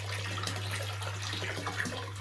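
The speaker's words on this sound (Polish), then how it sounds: "Na pusto filtr działa tak." Hagen Fluval 307 canister aquarium filter running empty gives a steady low motor hum beneath a continuous watery gurgle and splashing, close and even throughout, with no voices.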